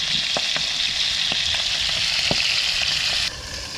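Squid fries hard in hot oil in a pan, a loud continuous sizzle with spitting pops scattered through it, close up, easing slightly near the end.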